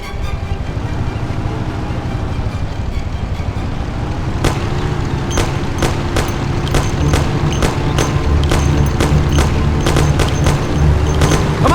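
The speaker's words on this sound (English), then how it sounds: "Take my Thompson. You and Sam shoot them." Thompson submachine gun fire in the Mafia video game: sharp, loud shots in irregular bursts start after a few seconds and repeat over a steady car engine drone.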